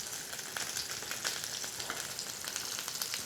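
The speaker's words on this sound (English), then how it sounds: "Gonna let that sear and get some color really quick before we get it in the oven." Fish sears in a hot pan with a steady, close hiss and fine crackle that holds at an even level throughout, with no voices over it.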